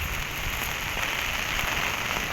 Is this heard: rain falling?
yes